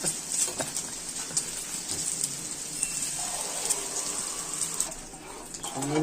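Water is poured into a pan of egg curry on the stove, a steady splashing and hissing pour over soft kitchen background noise.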